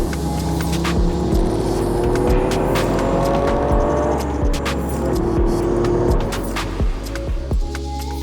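A Toyota GR Yaris accelerates steadily, its engine note climbing through the revs with a gear change partway through, loud and close with a constant road and wind rush and no voices.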